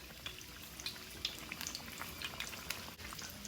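Apple fritters frying in hot oil for a Southern old-fashioned recipe, a steady soft sizzle with scattered small pops and crackles throughout, fairly faint and with no talking.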